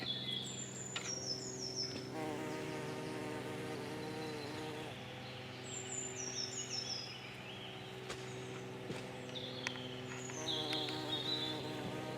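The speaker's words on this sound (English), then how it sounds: "You ever tried to film a bee?" Insects buzz beside a riverside spoil heap, with a bee-like drone and fly hum weaving in and out over a steady low hum, alongside faint bird chirps, continuous and fairly soft with no talking.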